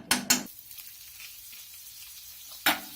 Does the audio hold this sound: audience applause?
no